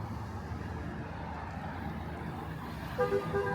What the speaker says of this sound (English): A lot of horn honking going on.